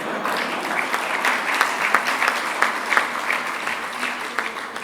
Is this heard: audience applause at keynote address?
yes